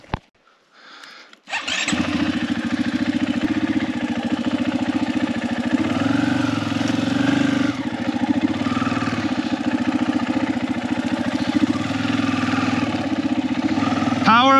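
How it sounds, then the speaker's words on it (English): A motorcycle engine on a Baja California tour starts up after a brief quiet moment, then runs loud and steady with a constant rumble close by for the rest of the time. "Power of a motorcycle."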